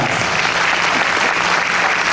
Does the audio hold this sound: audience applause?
yes